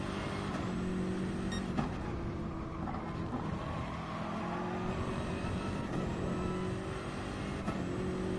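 Race car engine in a Gran Turismo-style Gr3 racing game at Brands Hatch GP Circuit, heard from on board as a fairly quiet, steady drone with repeated rises and quick drops from early short shifts, and no talking.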